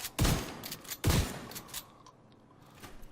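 Gunfire in The Division: two heavy bursts of shots close together, followed by lighter scattered shots and fading echoes.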